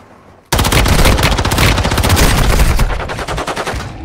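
Rapid machine-gun fire in the mobile video game Warzone Mobile bursts in loud and close after a brief quiet lead-in, hammering in a fast steady stream of shots that loosens into spaced pops near the end.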